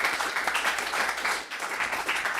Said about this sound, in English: So give yourselves a round of applause for being good students.